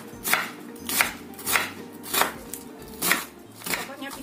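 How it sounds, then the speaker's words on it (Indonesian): A knife chops an onion into small pieces on a board, sharp close thuds landing in a steady rhythm of about six strokes over a few seconds, with no voices. "Ini kita potong kecil-kecil. Kemudian kita setengah cincang halus seperti ini."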